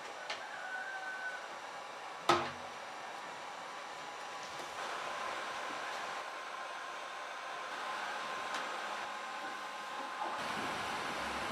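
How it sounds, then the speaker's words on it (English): A heat gun blows a steady, moderate whoosh while warming plastic on a 2008 Dodge 2500 tailgate, with a single sharp knock early on and a faint rattle underneath. "So I'm going to see if I can heat that up with a heat gun and mold that around that."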